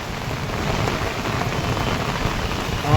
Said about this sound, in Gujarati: જબરજસ્ત વરસાદ ચાલુ છે